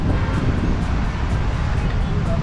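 Steady sea breeze and surf roar at a beach in Calicut, a continuous broadband wash of wind and waves filling the whole stretch with no clear breaks.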